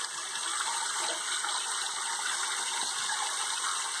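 Steady running bath water pours and gushes continuously, close and moderately loud, while a baby named Mark is bathed.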